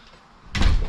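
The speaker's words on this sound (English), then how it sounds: "Then you walk through this door." A door in a farm building on a family grain farm opens with a sudden loud burst after a quiet stretch, a broad thump and rattle that stays strong to the end of the moment, with no talking over it.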